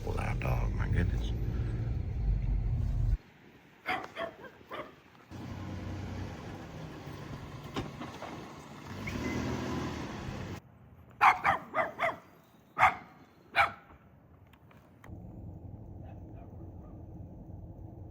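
A lap dog barks in short, sharp bursts outdoors near a road, a few spaced yips and barks standing out over quiet background, with a stretch of louder vehicle noise and some talking earlier.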